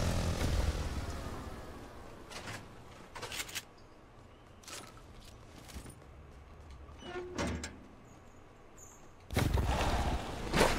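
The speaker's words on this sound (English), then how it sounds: "I guess if those planes are that loud," Aircraft roar in Fortnite comes in bursts, loud at the start and again near the end, with quieter stretches broken by short sharp in-game clicks and thuds between them.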